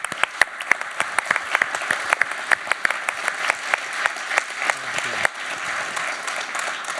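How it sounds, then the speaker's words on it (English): Applause from the audience at a city institute launch event, a crisp sustained clapping with distinct individual hand claps standing out near the front, tapering slightly toward the end. "A round of applause for all of you."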